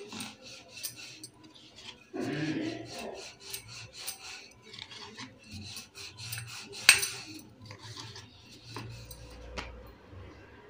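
Ragi chapati dough is rolled out, producing repeated close rubbing and rasping strokes in an uneven rhythm, with occasional light knocks and clatters of utensils.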